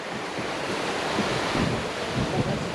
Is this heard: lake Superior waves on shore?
yes